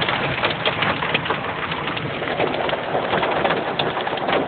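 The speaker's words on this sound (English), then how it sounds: "It is currently hailing outside in South Florida, which is unheard of." Hail falls outdoors in South Florida as a dense, continuous patter of many small impacts, steady and fairly loud throughout.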